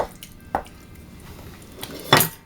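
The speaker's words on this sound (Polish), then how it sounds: "I tak samo próbujemy to wymieszać tak, aby się rozpuściło." Chicken stirred in a creamy chilli sauce in a pot, heard as a few sparse metallic clinks of a utensil against the pot, with a louder clatter near the end.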